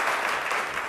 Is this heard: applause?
yes